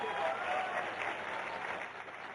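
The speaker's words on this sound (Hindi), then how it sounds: "कुमार विश्वास और उनकी पूरी टीम के लिए एक बार जोरदार तालियां।" A large audience at a literary event applauds the poet Kumar Vishwas and his team, a steady, full burst of clapping that tapers slightly.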